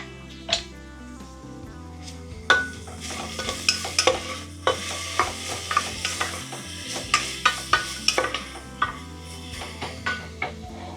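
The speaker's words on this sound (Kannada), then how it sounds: "ಈಗ ಈರುಳ್ಳಿ ಹಾಕೊಳ್ತಾ ಇದ್ದೀನಿ. ಈರುಳ್ಳಿ ಫ್ರೈ ಆಗಲಿ." Sliced onions fry in hot oil, a soft sizzle under a run of sharp, rhythmic scrapes and clinks of a utensil stirring against the pan, close and fairly loud.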